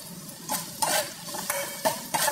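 Ginger and onion sautéing in a pot as the base for sinigang, a soft sizzle under repeated stirring scrapes and utensil knocks that come in several bursts.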